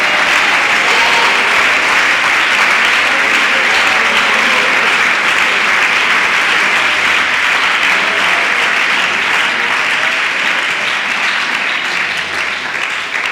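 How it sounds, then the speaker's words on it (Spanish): Sustained, loud applause from a church congregation at a Pentecostal service fills the whole stretch, a steady dense clatter of many hands with no break. "Denle aplausos al Señor Jesús."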